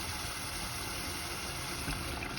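Water poured into a pan of minced meat for Greek spaghetti with meat sauce, a steady close rushing and hissing that runs unbroken for a couple of seconds.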